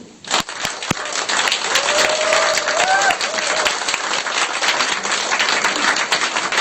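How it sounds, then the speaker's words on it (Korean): Welcoming applause from an audience at a Korean community talk show in San Diego, dense and steady throughout, with a faint voice briefly underneath. "모두 환영하는 의미에서 박수"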